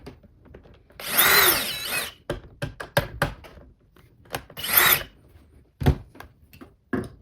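A power drill backing screws out of a Shark UV450 vacuum, with two whirring drill bursts nearby between sharp clicks and rattles of plastic and loose screws.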